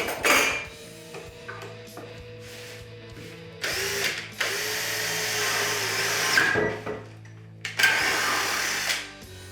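An electric drill bores a hole in the wooden body of a homemade Fender Telecaster-style guitar. It runs in several short whirring bursts of varying length separated by pauses, with no one talking.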